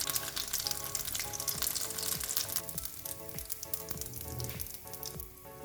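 Evening snacks of boiled egg and potato frying in oil, a continuous bubbling sizzle with light crackles and occasional spatters, close and steady throughout.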